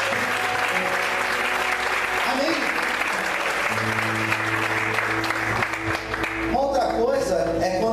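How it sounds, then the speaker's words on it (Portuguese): A church congregation applauding during a worship service, sustained clapping from the crowd with voices and shouts mixed in over it, fading slightly near the end. "Aplaudir o Senhor."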